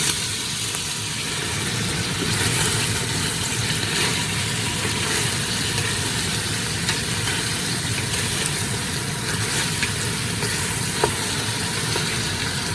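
Onions and peppers sauté with browned beef in a pan for a homemade beef stew, giving a steady, loud, unbroken sizzle with no talk.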